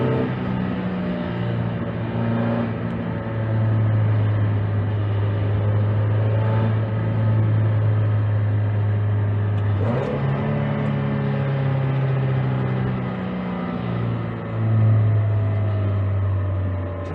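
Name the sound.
Mazda Miata car interior noise while driving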